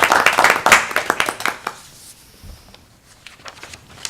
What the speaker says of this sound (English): You get applause